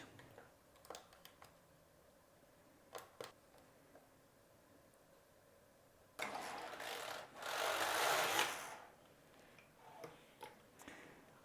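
A Passap Duomatic 80 knitting machine working a child's sweater: scattered clicks and ticks, then a loud whooshing carriage pass of about three seconds, followed by more light clicking, close by and with no talk.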